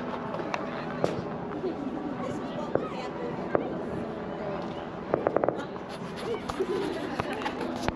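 Scattered firework bangs and a quick crackling burst pop in the distance at Crystal Beach after a solar eclipse, while a crowd chatters and people talk nearby.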